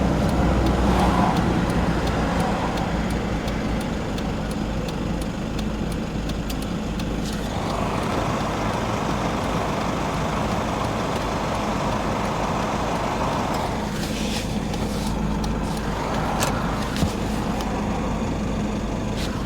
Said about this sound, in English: You wouldn't want to be down here with the traffic noise.